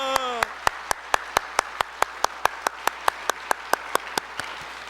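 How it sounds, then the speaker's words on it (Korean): A church congregation claps in unison during a Sunday service, a steady rhythmic beat of about four claps per second that runs loud and even throughout, with a brief voice at the very start. "우리 사랑하는 주님께 다시 한번 큰 박수로 영광 드립니다."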